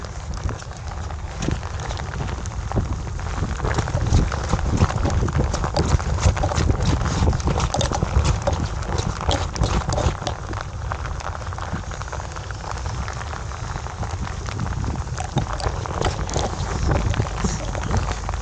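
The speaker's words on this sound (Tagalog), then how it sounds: "Sakto lang ang ulan, bumuhos." Dense, steady patter of heavy rain pouring down at a fishing spot in Baseco, loud and continuous, with scattered sharper drips and splashes throughout.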